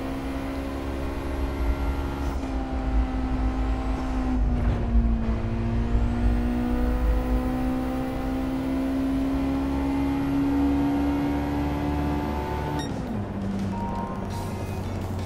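A car engine in the racing game Gran Turismo 7 holds a steady hum while driving, with pitch sliding up and down as the revs change and a distinct gear shift near the end, playing alone with no talk.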